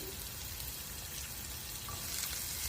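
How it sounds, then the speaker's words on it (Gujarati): Chili, ginger and garlic sauté in a hot pan with a steady, close sizzle that holds without pause and swells slightly near the end, with no talk. "મરચા આદુ લસણ જેવા સોતે થશે"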